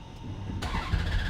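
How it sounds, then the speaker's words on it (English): A Ferrari F430 with F1 transmission starts up, the engine catching abruptly and settling into a steady, loud idle close by. "we're going to first start the car"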